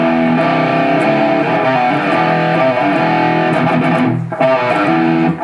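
A heavily distorted electric guitar plays a riff slowly, a dense continuous chugging drone with palm mutes, loud and alone with no voice, briefly dipping near the end.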